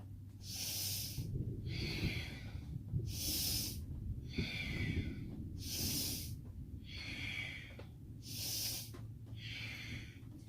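Slow, deep breaths in and out during a kundalini yoga exercise, close to the mic, with six or so rhythmic airy pulses evenly spaced over a low steady hum.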